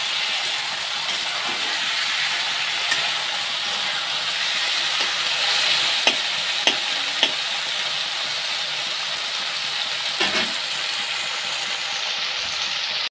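Potatoes and eggplant fry in oil in a pan, making a continuous even hiss with a few faint clicks and knocks and one brief clatter near the end.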